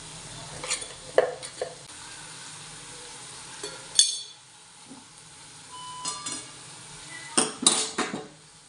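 A pan of bean curry with crushed peanuts is stirred, with irregular metal spoon scrapes and clinks against the pan over a faint, steady sizzle.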